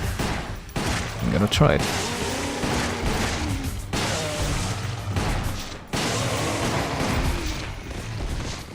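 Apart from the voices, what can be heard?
gunfire in a shooter video game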